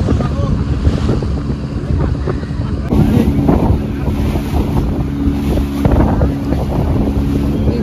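A boat on a mangrove tour near Pondicherry runs with a steady engine drone and water wash, buffeted by wind noise on the microphone, with slight bumps as it turns left and right.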